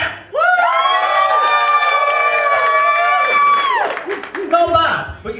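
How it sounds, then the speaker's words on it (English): Theatre audience at a Florida mentalism warm-up show cheering and clapping for one side of the room, a loud sustained crowd roar with high-pitched shouting and whoops, fading near the end into scattered voices. "you go wild with applause for them on this side only now"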